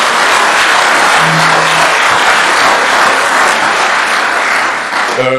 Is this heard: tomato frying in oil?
no